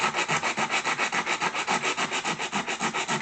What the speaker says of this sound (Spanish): Ahí le voy a dar con una lija un poco más fuerte.